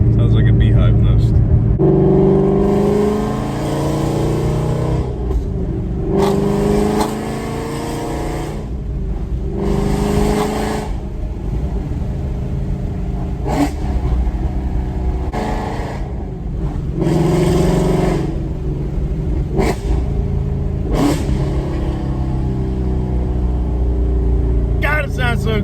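A Shelby GT350 engine roars loudly while driving, with repeated revs rising and falling in pitch and a rough buzzing growl throughout, heard from inside the car under steady talking.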